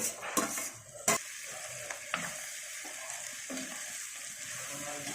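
Small bitter gourd curry being stirred in a pan, a steady sizzle with a few sharp scraping strokes near the start, then a continuous fry hiss with soft spoon movements.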